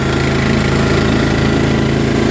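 A John Deere LA105 lawn tractor engine drones steadily while driving in fifth gear, loud and close with a constant rumbling vibration and no talk.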